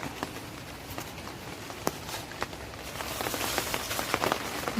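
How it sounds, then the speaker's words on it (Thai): Rain falling in a forest during a mushroom-foraging walk, a faint steady patter with scattered sharper drops and taps that grows slightly louder toward the end, with no voices. "ฝนตก"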